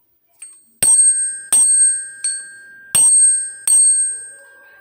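A long tuning fork is struck five times in an uneven rhythm, each hit a bright, loud metallic ping that rings on with sustained pure tones before the next strike.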